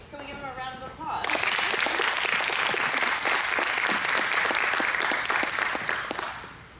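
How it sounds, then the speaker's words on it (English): An audience at a university alumni panel breaks into a round of applause, dense steady clapping that swells in abruptly after a brief spoken moment and carries on for several seconds before fading. "Can we give him a round of applause?"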